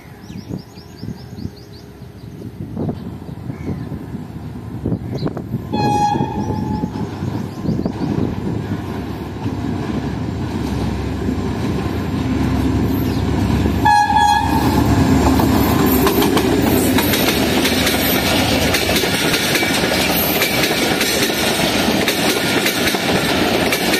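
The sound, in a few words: 149 Up Mehran Express train with HGMU30 locomotive arriving at station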